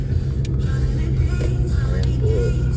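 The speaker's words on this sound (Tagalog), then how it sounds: "Sarap mag-drive pag ganitong walang gaanong sasakyan." Car cruising down a quiet, nearly empty road on a Sunday: steady low engine and tyre rumble from inside the vehicle, with a few faint clicks, no talk.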